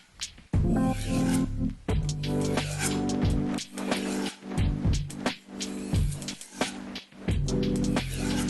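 A knife is honed on a wet 7000 grit sharpening stone with repeated rasping strokes in a steady back-and-forth rhythm, close and fairly loud, with no talk.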